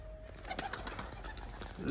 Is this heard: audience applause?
no